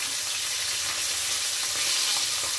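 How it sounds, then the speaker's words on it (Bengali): Fish heads fry in hot oil until browned on both sides, giving an unbroken close sizzle with light spits and crackles throughout. "দু সাইড ভালো করে লাল লাল করে ভেজে নেব"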